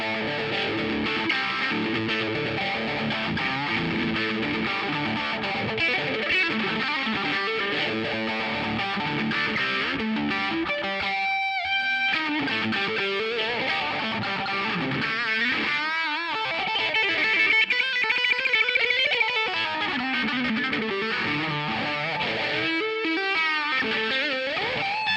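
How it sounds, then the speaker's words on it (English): Electric guitar played through a Digitech RP355 multi-effects preset combining TS9 Tube Screamer overdrive, Plexi amp simulation, heavy phaser, delay and plate reverb, sounding as dense, continuous distorted chords and riffs with swirling modulation and a few brief pauses. "In particular, I chose a TS9 tube screamer with a lot of phaser. A delay, I chose an Plexi simulation and a plate reverb."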